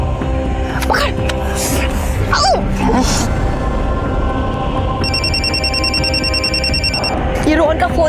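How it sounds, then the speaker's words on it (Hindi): A phone rings with a repeating electronic ringtone, loud and steady for a couple of seconds midway, over a dense background of murmuring voices and room hum, with whispered talk around it. "ये रोहन का फोन आ रहा है।"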